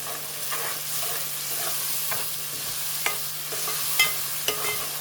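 Fresh Bombay duck masala frying in a pan, stirred with a utensil: steady soft sizzle with scraping strokes and a few sharper clicks against the pan, close and alone without talk.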